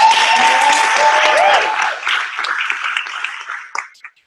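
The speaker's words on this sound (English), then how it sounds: "let's clap it up for Adrian and Cash" An audience at a wellness workshop claps for two performers, a loud burst of applause that thins out and fades into scattered claps and quiet.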